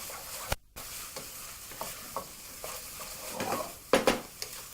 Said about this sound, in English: and continue to fry. Of course, using your spoon to break up the chunk of cubes. And continue to mix continuously